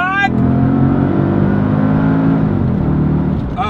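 A modified Mercedes SL55 AMG pulls hard under full throttle, its engine note loud and sustained with a steady rising drone that briefly dips near the end, close and alone before a voice exclaims at the finish.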